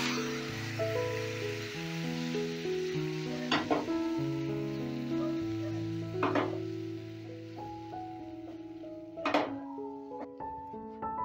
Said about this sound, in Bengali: বন্ধুরা, গাজরটা ভাজা হয়ে গেছে। এবারে আমি দুধটা ঢেলে দেব।